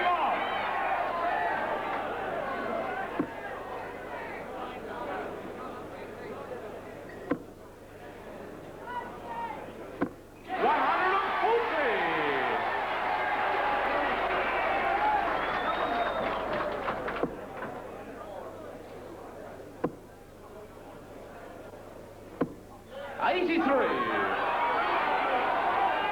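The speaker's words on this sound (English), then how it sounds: "The crowd emoting." Darts crowd at the 1983 Embassy final cheering and murmuring, a sustained roar that swells and dips across the hall, with a commentator talking over it.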